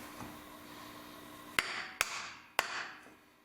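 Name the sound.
hammer striking a 2x4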